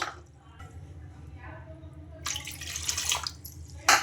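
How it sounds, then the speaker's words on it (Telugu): Water pours steadily into a bowl in a few bursts, splashing and trickling over a low background hum, with a louder gush near the end. "ఒక కప్పున్నర వాటర్ అయితే వేసుకోవాలి"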